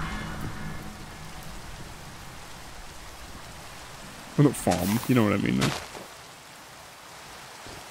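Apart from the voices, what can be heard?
rain falling in the video game Minecraft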